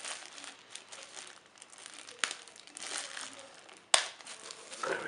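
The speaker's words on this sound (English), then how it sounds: "I just need to undo this bag." Plastic bag around a rugged smartphone's headset being undone, close, soft crinkling and rustling throughout, with a couple of sharper crackles.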